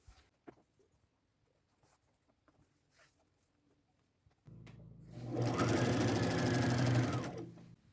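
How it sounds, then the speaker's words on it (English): A sewing machine stitches a leg seam of thrifted bib overalls being remade into a skirt romper. After a quiet start with small handling sounds, a loud, steady mechanical whirr runs for about three seconds and then stops. "sew all the way to the bottom"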